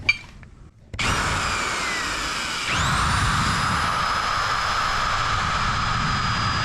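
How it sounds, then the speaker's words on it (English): A power drill fitted with a small grinding attachment whirs up abruptly after a brief quiet moment, then holds a loud, steady high-pitched whine as it cleans debris from an RB25DET engine, shifting pitch midway as the load changes. "So we have this little attachment here on the drill."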